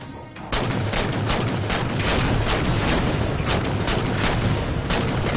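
Relentless rapid gunfire from the shooter game Halo 4 Spartan Ops, loud and continuous after a brief quiet start, with bursts and shots overlapping into a dense barrage.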